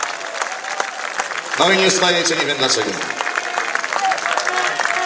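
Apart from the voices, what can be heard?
crowd applause at beach volleyball match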